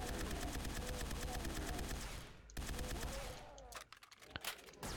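Laser rifle in the Lithium game mod fires rapid, evenly spaced shots in a long loud stream, then breaks off into a few scattered sharp bursts.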